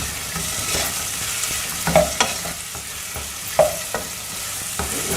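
Tomatoes sautéing with onion and garlic in a pan for tawa rice, a steady close sizzle broken by a few sharp scrapes and clinks of a spoon stirring, with no talking.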